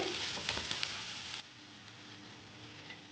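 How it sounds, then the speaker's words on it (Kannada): Chopped onions and green chilies fry in oil on a medium flame for pepper chicken, a close, busy sizzle that crackles loudly at first, then drops to a softer, steady hiss. "ಈರುಳ್ಳಿ ಒಂದು ಎರಡು ನಿಮಿಷ ಮೀಡಿಯಮ್ ಫ್ಲೇಮಲ್ಲಿ ಇಟ್ಕೊಂಡು ಫ್ರೈ ಮಾಡ್ಕೊಳ್ಳಿ"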